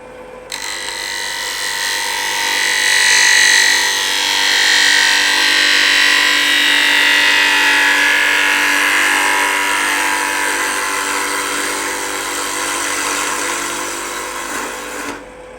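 A wood lathe hollowing out a bowl blank, the gouge cutting a steady, loud hiss that rises and dips slightly over a continuous run without talk.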